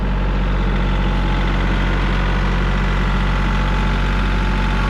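A tractor engine idles at a work site, a loud, close, steady low rumble with an even mechanical throb that holds unchanged throughout, with no talking.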